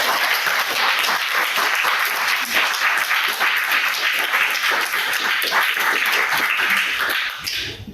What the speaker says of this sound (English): So can we please all give Chris Lam a round of applause